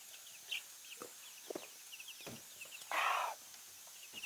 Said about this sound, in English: these are my birds, man. These are going to be my little egg layers